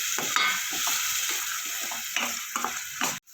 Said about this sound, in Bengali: দিয়ে এবার ভালো করে কষাবো।